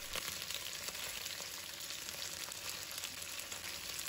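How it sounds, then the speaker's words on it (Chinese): Chicken pieces sizzle skin-side down in a hot pan, a steady, dense, close frying hiss that runs unbroken with no voices. "尽量把鸡皮煎一下。 刚放下去，先不用动它"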